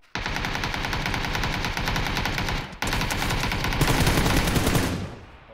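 Sustained rapid automatic gunfire from a shooting video game, loud and continuous bursts for about five seconds with a brief break midway, then tapering off at the end.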